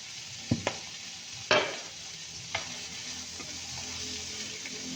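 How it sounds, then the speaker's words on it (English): Leftover chips cooking in butter in a pan sizzle softly and steadily, broken by a few sharp spatula knocks and scrapes against the pan, with no talking. "You basically want your chips to get nice and soft and cook in the butter"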